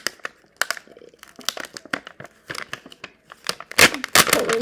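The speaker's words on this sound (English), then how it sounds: "you pull this paper off" Backing paper peeled off an ostomy bag adhesive product, heard as several close, dry crinkling and tearing rustles that grow louder near the end.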